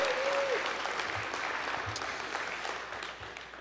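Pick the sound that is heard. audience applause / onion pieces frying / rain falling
audience applause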